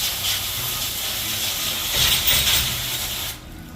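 Water sprays steadily onto rebuilt Chrysler 3.7 cylinder heads, a close, loud continuous hiss that cuts off abruptly near the end.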